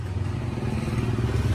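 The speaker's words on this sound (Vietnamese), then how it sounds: "Xe máy còn ngon lắm." A Honda Wave Alpha 100cc motorbike, running after a rebuild of its worn clutch, idles steadily nearby with a continuous low rumble and light mechanical clatter. No one speaks.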